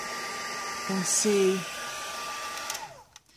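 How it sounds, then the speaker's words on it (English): Heat embossing tool blowing a steady airy hiss onto silver embossing powder, with a brief brighter burst and some faint vocal tones partway through before it cuts off near the end. "Then I just need to use my heat tool to emboss this"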